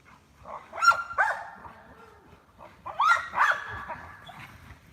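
Two dogs bark outdoors in two clusters of sharp, loud barks and yips, close by, separated by a short lull.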